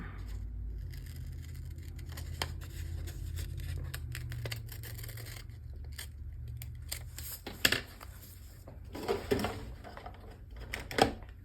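Scissors cut a stamped paper piece for a journal, making faint, close snips and paper rustles that grow into clustered crisp cuts toward the end, in quiet surroundings.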